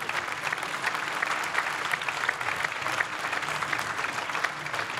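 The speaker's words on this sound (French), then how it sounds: "On peut vous applaudir." Audience applause at a European industry conference, steady and full throughout, a dense wash of many hands clapping at moderate distance with no break.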